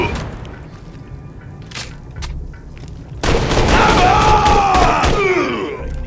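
Heavy booming cannon blasts in Borderlands 2, distant thuds at first then a loud sustained barrage with whining tones.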